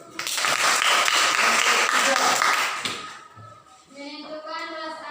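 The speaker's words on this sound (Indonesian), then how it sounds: "Tepuk tangan dulu" A classroom of students clapping together during a lesson, a dense burst of applause that fades after about three seconds into the teacher's speaking voice.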